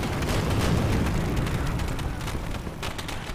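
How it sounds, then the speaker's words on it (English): Fireworks going off in Left 4 Dead 2 on a custom co-op map, heard as loud, crowded bursts and booms that come one after another in a steady, crackling barrage. "Nice fireworks, bro."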